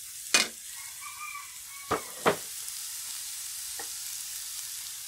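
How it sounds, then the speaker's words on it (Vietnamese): Lemongrass stir-frying in a pan, a soft low sizzle under a few sharp clinks of a utensil against the pan, near and sparse, with no voices. "Thì xả này mình sẽ xào cho nó vàng"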